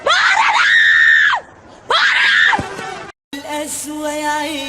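Loud, piercing shouts from a person, two long strained screams close up, then a raspier outburst after a brief cut.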